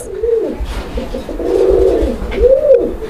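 Pigeons coo close by in a loft, three soft, rising-and-falling calls in slow succession, with no talking over them.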